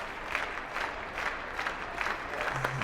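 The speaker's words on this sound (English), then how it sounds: "the crowd getting behind the Ha draw here" Crowd at a curling arena, the Players' Championship quarterfinal, applauding steadily at moderate distance, a sustained wash of clapping without a clear break.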